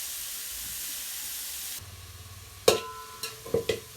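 Onion roasting in a pot on a wood-fired stove with mutton: a broad steamy hiss drops away, then a few close scraping stirs and clatters follow.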